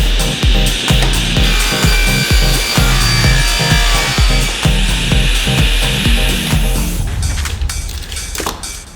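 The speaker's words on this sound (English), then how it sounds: "I have to head back on over to the table saw and make a 16-inch cut on each one of these boards" Wooden boards are cut on a table saw, giving loud, rhythmic rasping bursts of blade against wood in quick succession, easing off in the final seconds; no one speaks.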